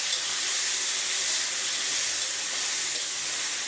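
Onions and ginger paste frying in a pan while cooking fish-head kuishak curry, giving a loud, steady, close sizzling hiss that runs unbroken, with no voices.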